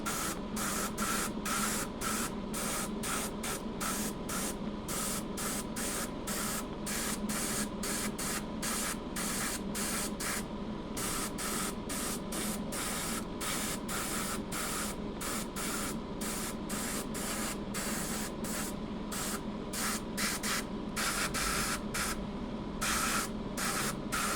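An airbrush fed by a compressor at about 50 PSI sprays paint in rapid, regular short bursts, each a sharp airy hiss over a constant compressor hum, close and loud throughout.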